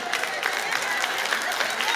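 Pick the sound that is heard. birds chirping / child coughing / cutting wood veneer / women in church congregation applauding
women in church congregation applauding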